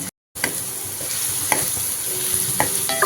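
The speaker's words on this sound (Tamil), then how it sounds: "கருவாடையும் சேர்த்து வதக்கிக்கலாம்" Dried fish and small shallots sautéing in hot oil, a steady close sizzle with a few sharp stirring clinks of a spoon against the pan and no talking.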